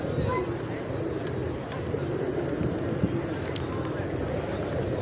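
Pigeons at the pigeon park in Malé, Maldives, cooing among a dense, steady outdoor rumble of crowd and city noise throughout.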